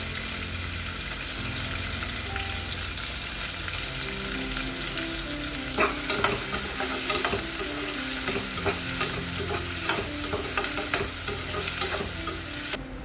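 Sliced green chillies and onions fry in a pan with a steady close sizzle, and about halfway through a burst of repeated scraping and clacking stirring strokes joins in. No one speaks.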